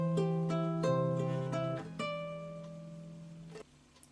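A guitar plays a short sequence of single notes in a simple beginner melody, each plucked note ringing clearly and decaying, close and alone, with a few notes overlapping before the last one fades.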